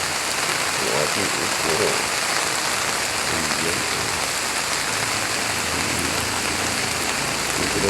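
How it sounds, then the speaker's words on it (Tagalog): Heavy rain pours down over a farm plot of bottle gourd and banana plants, a dense, constant roar of drops that holds from start to finish, with someone talking over it at times. "Ang lakas ko ng ulan."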